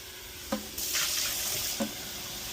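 Water runs steadily from a tap while the reservoir of a Keurig K-Slim coffee maker is rinsed, a soft hiss broken by a couple of small knocks and splashes, fairly quiet and with no talk.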